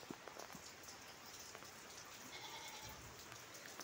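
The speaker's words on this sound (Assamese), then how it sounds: "কি লেভেলত বৰষুণ দিছে গাইজ" Heavy rain pours steadily, a dense continuous hiss of drops on surfaces with no break, soft and even throughout, with no voices.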